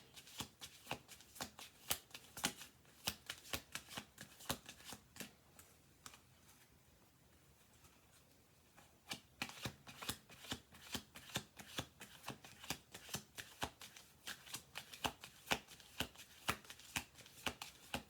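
A deck of cards is shuffled close up in repeated riffling bursts of crisp flicks, with a brief quiet pause midway before the shuffling resumes.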